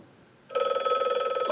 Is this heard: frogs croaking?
no